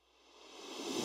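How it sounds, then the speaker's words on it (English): A reversed kick drum for a hyperpop song transition, a noisy swell rising steadily from near silence to a loud peak over about one second, with no talking. "just added a big kick that's reversed and it sounds like this"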